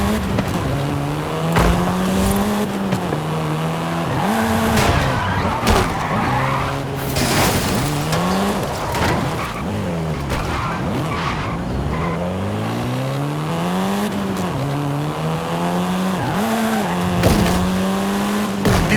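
A Volkswagen Golf R, the seventh-generation hot hatch, drives hard in Forza 5: its engine note climbs and drops through repeated gear changes while the tires squeal and skid, loud and close throughout.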